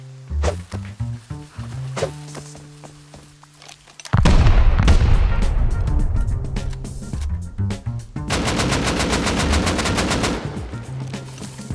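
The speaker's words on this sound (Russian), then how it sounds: "По нам с ракетницы стреляют." Video game gunfire including a flare gun: scattered sharp shots at first, then a heavy boom followed by sustained bursts and a long rapid-fire stretch, loud and close.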